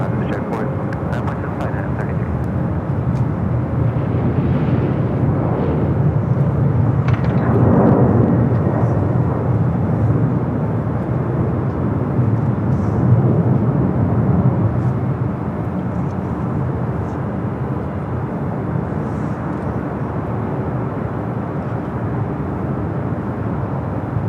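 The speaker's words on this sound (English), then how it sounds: "The Tom Airlines flight 2479 heading to Lima, Peru, a 767 at 300 ER. Rolling down 25 right" A Boeing 767-300ER rolls for takeoff on runway 25 Right at LAX, a loud, continuous, rumbling jet roar heard from a distance, while someone talks over it.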